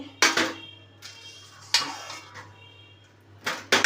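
Boiled eggs lifted one at a time from a cooking pot, giving three sharp clinks of egg and spoon against the metal rim with quiet pauses between them, close and alone.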